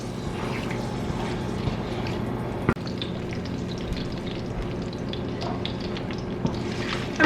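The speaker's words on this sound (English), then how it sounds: "I will stir all of this till I get a nice aroma from all the whole spices." Whole spices, cloves and a cinnamon stick among them, frying in hot oil with a steady, dense sizzle and occasional stirring knocks, one sharp clack partway through, with no voices.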